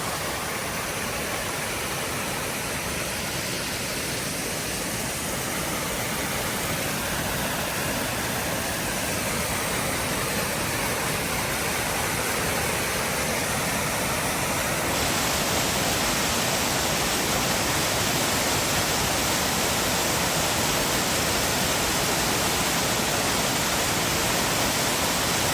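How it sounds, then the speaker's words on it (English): Water cascading from a waterfall high on a mountainside in the Dolomites, a steady, dense broadband rush with no pauses, constant and fairly loud, shifting slightly in tone partway through. "we captured this water coming from a waterfall quite a ways up on the side of the mountain up there"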